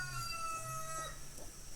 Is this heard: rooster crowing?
yes